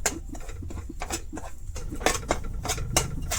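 Wheat flour and semolina are dry-roasted in a hot wok over medium heat, with quick, irregular scraping and light clinking as the mix is stirred.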